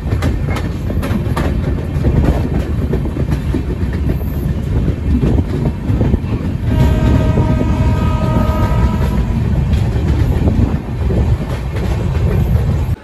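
A train running on rails near Kishanganj, on the Kolkata to Darjeeling route, rumbles and clatters steadily up close, and a sustained horn sounds in the middle.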